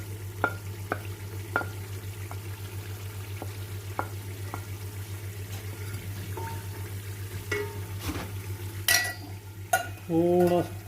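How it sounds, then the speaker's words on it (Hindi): Steady low sizzling of spices and fenugreek frying in a pan for kadhi pakora, with occasional scrapes and clinks of a utensil stirring, ending in a few clattering knocks. "ये देखिए मसाला भून रहा है"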